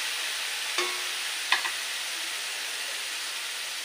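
Bottle gourd stems with fish and potatoes cook down in a pan as the water evaporates, a soft, even hiss with two brief clinks of a utensil and no speech.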